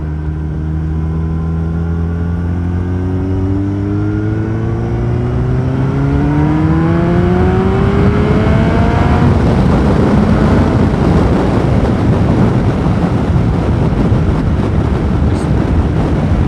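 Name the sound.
riding 5PW Yamaha R1 motorcycle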